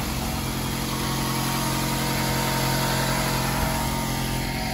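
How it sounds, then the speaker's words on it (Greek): Opel car engine idling steadily after a jump start, a constant close mechanical drone that stays even throughout with no talking. "Και έτσι βάζουμε μπροστά ένα αυτοκίνητο που έχει μείνει από μίζα"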